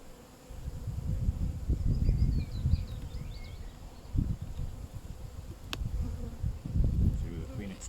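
Honeybees buzz steadily inside a hive with a queen excluder fitted, a dense close drone rising and falling in loudness throughout, with occasional soft rustles and knocks.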